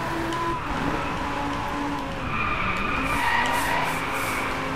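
Lamborghini Huracán tires screech through a handbrake spin in Driveclub, a continuous, loud squeal whose pitch wavers over a steady engine roar.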